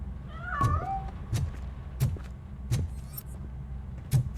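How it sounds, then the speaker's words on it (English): A cat in RoboCop: Rogue City meows once, clearly, from hiding near a piano. Several sharp thuds or knocks follow at steady intervals, with no talk. "That cat must be hiding inside."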